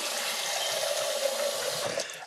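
A kitchen tap runs steadily into a pitcher in a continuous, moderately loud rush of water that tapers off at the end.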